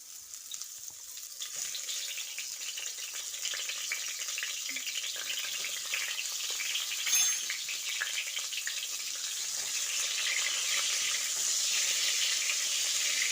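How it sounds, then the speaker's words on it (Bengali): Pointed gourd (potol) frying in plenty of hot mustard oil in a kadai, a continuous close hiss and crackle of sizzling that builds gradually and steadily, with no voices. "তেলটা গরম করে প্রথমে আমি পটলগুলো ভেজে নেব তার জন্য কড়াই পটলগুলো দিয়ে দিচ্ছি"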